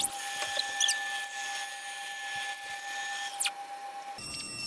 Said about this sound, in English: Ran the CNC machine along its full length on the X-axis to check it was functioning correctly.